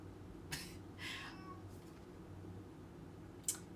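A few faint, short cat meows, scattered a second or two apart, against a quiet indoor hum with no talking.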